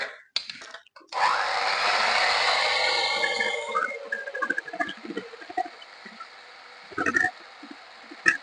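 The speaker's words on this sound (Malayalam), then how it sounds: "ഇതിപ്പോൾ ഹാൻഡ് മിക്സി ഉള്ളത് കൊണ്ട് ഞാൻ ഹാൻഡ് മിക്സിയിൽ എനിക്ക് എളുപ്പത്തിൽ ചെയ്യാലോ എന്ന് ഓർത്താണ്" An electric hand mixer whirs steadily while beating two room-temperature eggs for a simple cake batter, a loud continuous motor hum after a brief pause, then fading into intermittent clatter and softer bumps.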